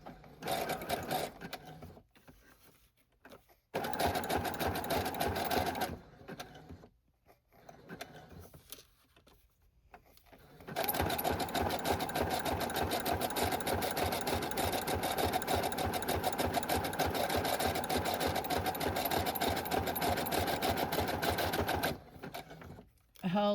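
A sewing machine stitches the edges of dust jacket journals, its rapid mechanical whir starting and stopping in short runs before a long steady stretch, close by, with speech heard at times.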